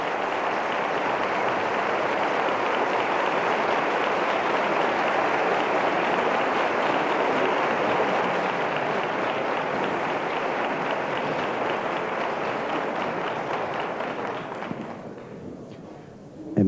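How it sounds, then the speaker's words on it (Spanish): A large crowd applauds steadily and loudly as the pregonero arrives at the 1999 Coronation proclamation of María Santísima de la Estrella, a dense unbroken wash of clapping that fades out near the end. "Llega el pregonero y aplaude el público."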